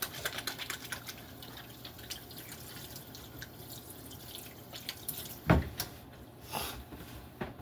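Tap water runs steadily into a sink during handwashing, with small drips and splashes and a brief louder clatter near the middle, fairly close and with no talking.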